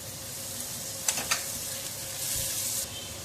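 Chilli dropped into a hot pan with garlic sizzles up briefly, followed by a couple of sharp clinks of a utensil and a short burst of stirring, all close and steady under a constant background hiss.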